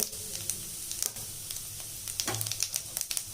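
About a teaspoon of crushed fennel seeds hits hot oil in a pan while tempering for a spinach and egg stir-fry, producing close crackling sizzles and bursts of popping over a steady hiss, without talk.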